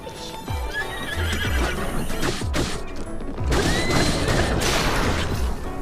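A horse whinnies loudly over a busy soundscape in The Legend of Zelda: Breath of the Wild, with hooves clip-clopping and thuds and crashes throughout.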